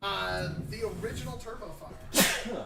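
A single abrupt sneeze bursts out near the end, following a stretch of someone talking.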